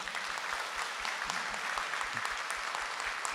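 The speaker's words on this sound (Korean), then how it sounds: "한번 축복의 박수 해주시고요" A church congregation at a Korean Presbyterian Sunday service claps in blessing, a dense, even round of applause that carries on steadily throughout.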